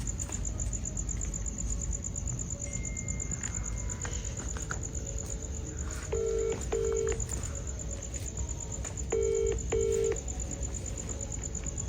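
Telephone keypad tones beep in two short pairs, clear and close, over a steady chorus of crickets chirping at night.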